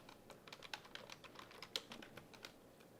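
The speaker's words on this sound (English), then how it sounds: "click S on the keyboard and save it" Light typing on a computer keyboard, a quick irregular run of soft close clicks and keystrokes, fairly quiet with no voice over it.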